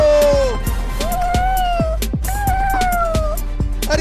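Three cats meow loudly and repeatedly close by, long wavering cries overlapping one another, over a steady background of clatter and faint thumps, with no talk.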